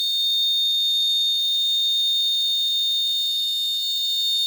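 An alcohol-detection alarm buzzer on an Arduino-based vehicle accident alert system sounds a continuous shrill high-pitched tone, loud and unbroken throughout.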